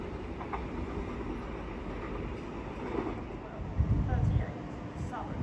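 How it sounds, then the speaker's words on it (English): Southern Class 171 diesel unit 171 808 arriving at East Croydon station on the Brighton Main Line, a steady low rumble and rail noise swelling briefly near the end, with a voice talking over it. "Arriving now is the 1238 Southern says from Uckfield to London Bridge, led by 171 808 on that one."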